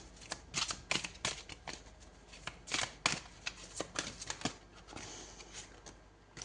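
Tarot cards being shuffled for a reading, a rapid series of crisp riffling and slapping bursts, close and quiet, irregular in rhythm, with no talk over them.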